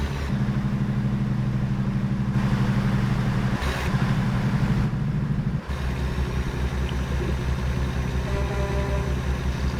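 A Peterbilt 579 semi in American Truck Simulator hauling gravel, its Jake brake giving a deep, rapid staccato engine rumble that cuts off briefly and restarts, then the engine drops to a lower droning run.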